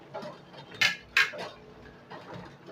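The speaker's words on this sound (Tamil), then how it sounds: "இப்போ நம்ம குக்கர் மூடியை போட்டுடலாம்" A metal pressure cooker lid is set down and fitted while making mushroom biryani, giving two sharp metallic clinks close by amid softer handling clatter in a quiet kitchen.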